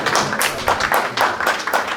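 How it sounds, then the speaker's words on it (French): An audience at a Haitian sports event about the Paris Olympic Games applauds Jean-Pierre Roy, a brief stretch of continuous clapping at moderate level with no voices over it. "je vous demanderai d'applaudir le JP"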